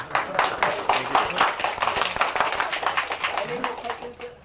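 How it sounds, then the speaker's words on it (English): Scattered audience clapping during a session on speaking with confidence, dense and fairly close, with voices talking over it throughout. "let me give a round of applause here"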